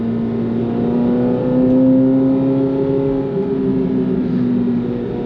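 Chevrolet Corvette C8 Z06 rolling through a residential neighborhood at about 30 mph, a loud, steady, high-strung engine drone with slight swells in pitch, heard from inside and alone without talk.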